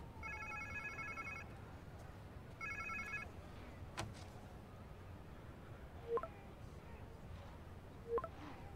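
A telephone in the video game Spider-Man 2 rings twice in short electronic bursts with a pause between, followed by a sharp knock and two brief clanks against a low ambient hum.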